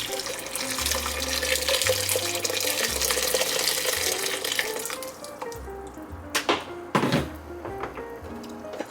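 Tap water runs into a pot in a home kitchen while sorrel and ginger beer are being made, a steady close rushing stream that shifts in tone as the pot fills, with a few clunks near the end.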